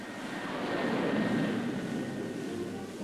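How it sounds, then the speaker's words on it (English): Military airplanes of the Pacific Air Force drone overhead in a steady, broad engine roar that swells slightly, then holds at a moderate distance with no voices. "The planes of the Pacific Air Force"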